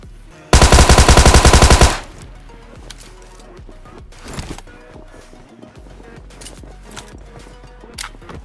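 Gunfire in the mobile battle game BGMI: a loud rapid burst of automatic shots lasting over a second, followed by scattered quieter shots, thuds and footsteps.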